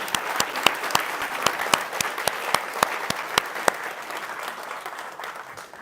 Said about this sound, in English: So a big round of applause for Meta and Logitech for these tracks.